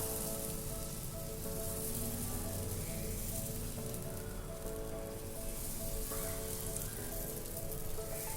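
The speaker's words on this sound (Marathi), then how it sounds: "डोसाचं बॅटर घालूया" Oats dosa batter sizzling on a hot pan, a continuous dense crackle and hiss that stays fairly even throughout, with a low background hum beneath it and no voices.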